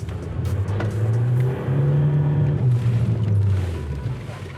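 A car accelerates on a cone driving course, its engine droning and rising steadily in pitch, close and loud, then easing off toward the end.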